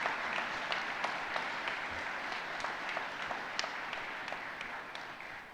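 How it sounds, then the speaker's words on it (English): Sustained audience applause at a fire service hall of fame awards ceremony in Ohio, a dense steady wash of many hands clapping with a few sharper claps standing out, fairly close and continuous throughout. "how about a round of applause for Brandon Mahan, Kenneth Jordan, and all of today's honorees"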